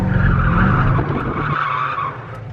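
Corvette Z06 tires, worn nearly bald, screeching loudly in a sustained broadband skid while drifting, with engine roar underneath, lasting the full couple of seconds and easing slightly toward the end.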